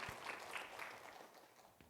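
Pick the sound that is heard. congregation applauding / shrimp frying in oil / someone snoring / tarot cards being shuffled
congregation applauding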